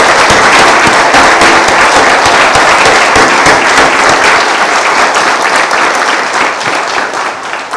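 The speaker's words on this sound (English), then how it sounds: "Please join me once again in giving a warm congratulations and round of applause to Linda." Loud, sustained applause from an audience at a county government State of the County address in Putnam County, New York, dense clapping that stays steady and then thins slightly toward the end.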